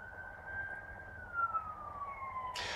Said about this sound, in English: Yeah, it's a police car.